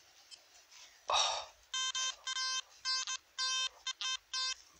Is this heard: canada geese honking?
no